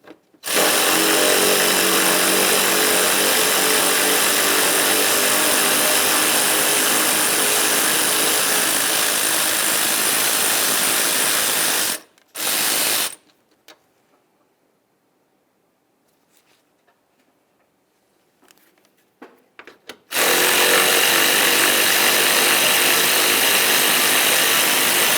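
A power tool spins out 10mm fan shroud bolts on a 1999-2006 Chevrolet Silverado, a loud continuous whirring in two long runs separated by a quiet pause with faint clicks.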